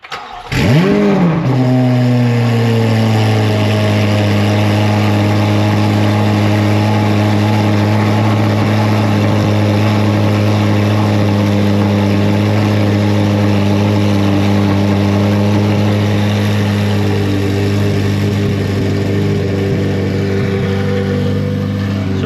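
Corvette C8 Z06 with catalytic converters deleted cranks over and fires, then settles into a loud, steady rumbling idle with a few swells in revs, very close and continuous with no talk.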